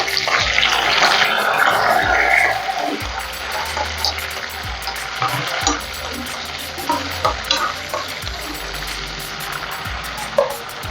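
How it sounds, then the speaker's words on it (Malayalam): Tomatoes dropped into hot oil in a pan with curry leaves, a loud burst of sizzling and frying that settles into softer crackling with occasional stirring knocks and scrapes. "ഇനി നമുക്ക് തക്കാളി ഇട്ട് കൊടുക്കാം കേട്ടോ."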